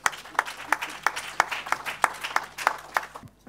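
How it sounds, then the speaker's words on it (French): Scattered clapping from an audience at an agricultural direct-marketing awards ceremony, greeting the jury members with a loose, uneven rhythm of separate claps that fades at the end. "on va applaudir les membres du jury"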